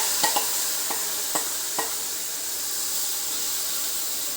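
A spoon scrapes and taps a few times in a pan while ground coconut paste with shallots, ginger and garlic is stirred into fish curry, over a steady close sizzle and hiss.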